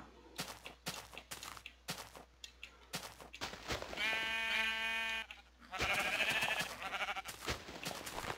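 Footstep-like thumps, then two drawn-out sheep bleats in a video game, close and fairly loud, separated by a short pause.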